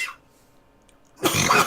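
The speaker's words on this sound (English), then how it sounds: "I'm gonna die from coughing." A single harsh cough bursts out close and loud at the end, following a short breathy sound and near silence.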